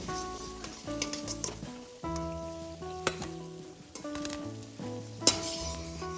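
Suji aloo tikki frying in hot oil in a pan, a steady close sizzle with occasional light clinks and scrapes of a utensil, moderately loud throughout.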